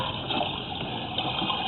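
Water rushes steadily through a main sewer line at a city connection clogged with heavy roots, a continuous loud gushing with no pauses and no voices.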